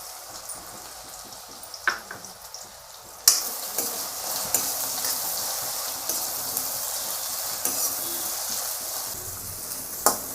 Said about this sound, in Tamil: நெய்யாலே நல்லா வதக்கி எடுத்துக்கலாங்க.